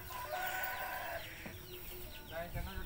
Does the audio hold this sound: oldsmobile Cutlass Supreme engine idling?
no